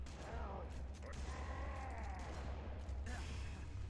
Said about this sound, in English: I shot him like 5 times with a shotgun.